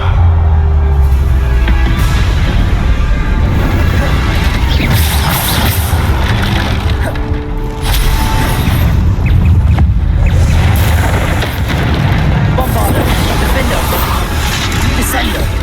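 Bombarda blasts and other spell impacts thunder through Hogwarts Legacy combat, a constant loud wall of booming and rumbling with shouted spell names on top.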